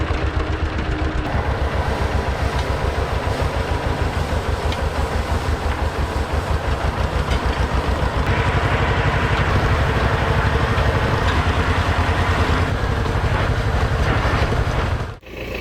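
A tractor pulling a hay rake across a field during first-cut baling, its engine chugging in a steady rhythmic drone with clattering machinery, loud and continuous before cutting off abruptly at the end.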